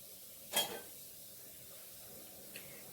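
A spoon mixes a bottle gourd curry in a pan. Two sharp metallic clinks land about two seconds apart over an otherwise quiet background, with no talking.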